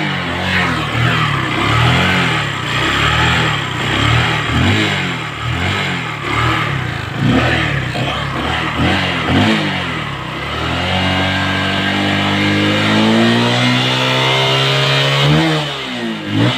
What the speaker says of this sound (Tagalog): kapag binibirit yung ating silinyador, so namamatay na siya, nagpupugak, sabay patay ang makina